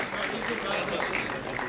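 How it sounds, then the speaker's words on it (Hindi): Audience at an awards function gives loud, dense applause for a singer, steady clapping throughout with voices mixed in. "जोरदार ताली की गड़गड़ाहट हो जाए दोस्तों"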